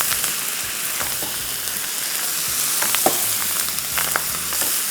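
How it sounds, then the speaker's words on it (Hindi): Kimchi fried rice is folded and mixed in a hot pan, producing a continuous close sizzle broken by soft scraping and stirring taps, with no one speaking. "किमची जब भी शामिल करेंगे बस ये शामिल किया और सिंपली इसको मिक्स करना है, पकाना नहीं है"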